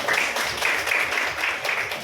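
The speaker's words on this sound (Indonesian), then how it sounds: "beri tepuk tangan untuk kalian" Students in a classroom give a short burst of applause, a steady, even patter of clapping lasting about two seconds at moderate volume.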